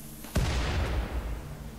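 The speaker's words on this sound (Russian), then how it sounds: "Сейчас это взорвется." An explosion in the video game Rimworld hits with one sudden heavy boom, followed by a long rumbling decay under steady background noise.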